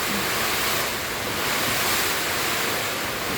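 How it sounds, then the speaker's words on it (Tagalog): Strong swirling typhoon wind batters a house during an all-night storm, a dense, steady roar with no pauses and no voices throughout. "Grabe yung hangin, umiikot."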